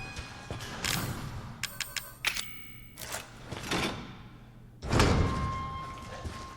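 A locked door in the Catacombs of the video game Resident Evil 7 (Not A Hero) is opened with a key: metallic latch clicks and mechanism rattles, then heavy thuds and a loud closing slam.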